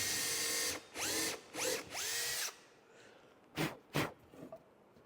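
An iCARB countersink bit cuts countersinks in several short bursts, each a close, loud whine that rises in pitch as it spins up. Four runs come in quick succession, then a pause, then two brief final bursts.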